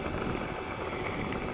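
An FMS PC-21 Pilatus model plane flies with a steady, continuous whirring drone that holds an even loudness throughout.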